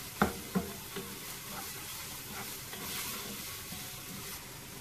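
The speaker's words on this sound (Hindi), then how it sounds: "बिल्कुल लो फ्लेम पे इसको थोड़ा सा हिलाएंगे।" Vegetables for restaurant-style fried rice are stirred in a pan over a low flame, with a soft steady sizzle and a couple of sharp utensil scrapes near the start.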